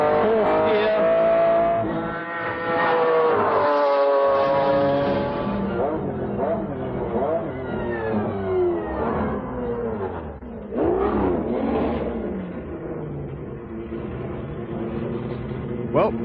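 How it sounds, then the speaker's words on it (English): A McLaren F1 GTR race car accelerates hard through second, third and fourth gears during tyre testing, its engine note climbing in repeated rising sweeps, loud and close, with a voice partly over it. "Drop the speed down to 80 kilometers, accelerate hard, second, third, fourth gear."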